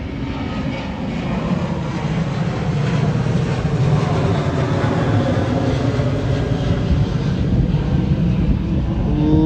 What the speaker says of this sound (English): Airplane going over.